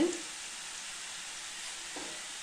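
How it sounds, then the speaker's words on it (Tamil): Pepper kaara sev dough fries in hot oil with a soft, even sizzling hiss that holds steady throughout, faint and close, with one brief stronger burst near the start. "இப்போ எண்ணெயோட சலசலப்பெல்லாம் அடங்கிருச்சுங்க"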